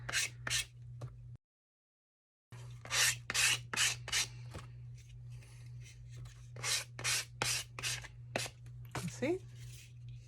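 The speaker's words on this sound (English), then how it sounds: "I'm just going to take my sanding block and I'm going to go along the edge and make sure it's nice and flush with it." A sanding block rubs along the edge of a wooden faux fireplace bookshelf, making a series of distinct rasping strokes in uneven bursts. A low steady hum sits underneath, and there is a brief silent gap near the start.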